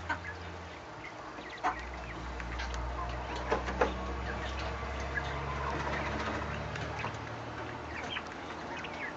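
Pet quail calling in a coop during banding, with a few short sharp calls standing out over a steady low hum and scattered faint chirps from other birds.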